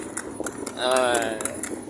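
A horse-drawn cart passes along a road with hooves clip-clopping faintly, mostly masked by someone talking over it.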